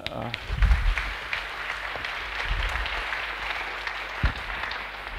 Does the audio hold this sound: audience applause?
yes